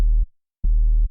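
Serum 2 triangle-wave sub bass run through a low-pass filter: two deep, smooth held bass notes with a short gap between them, loud and round with the brighter edge trimmed off.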